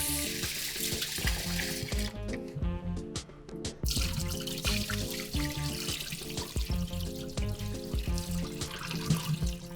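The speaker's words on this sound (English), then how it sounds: "So we're gonna go wash our rice and we're gonna add it to the pot." Rice is washed under a running kitchen tap for Jamaican rice and peas, a close, continuous gush of water splashing through the grains with brief pauses in flow, no talk.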